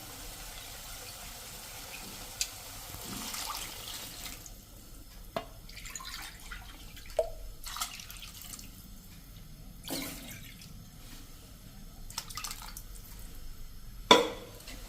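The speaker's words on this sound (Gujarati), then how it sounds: "એટલે અત્યારે હું અંદાજે 3 ગણું પાણી નાખી દઉં છું" Water is poured onto soaked pearl millet and mung beans in a pot, a soft, quiet trickle and splash with a few sharper clinks and drips scattered through.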